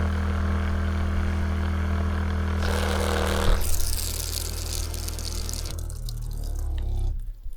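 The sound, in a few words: water pump running and pumping up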